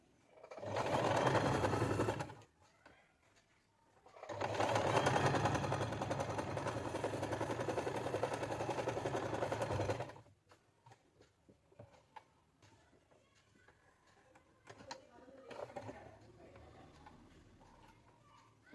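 A sewing machine runs straight stitches across a cloth patch mending a hole in a saree. It comes in two steady, buzzing bursts, a short one and then a longer one, followed by quieter handling sounds.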